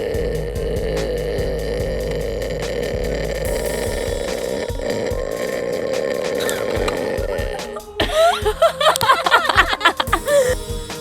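A girl forces out a long, low, rough burp that drones on for several seconds, followed by shorter choppy grunting sounds and a breathy chuckle near the end.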